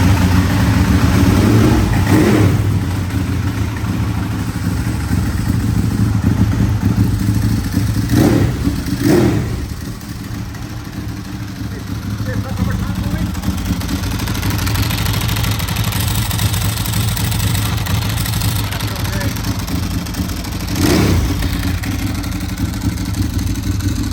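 Motorcycle fitted with a 996 motor runs loud and close, a steady rumbling idle with a few sharp revs blipping up and dropping back over about twenty seconds, no voices.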